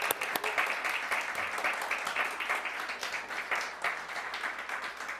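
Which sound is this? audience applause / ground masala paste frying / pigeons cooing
audience applause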